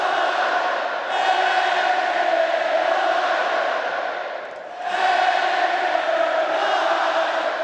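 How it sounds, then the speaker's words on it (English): A loud, sustained roar from a sold-out college football crowd at Lane Stadium during Virginia Tech against Vanderbilt, swelling continuously with a brief dip before surging back to full volume. "The Hokie crowd was loud and proud in a sold-out Lane Stadium"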